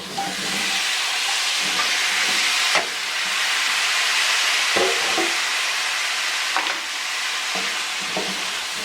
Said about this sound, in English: Here's where we're going to go in now with the cubed potato, and I'm just using Yukon Gold potato.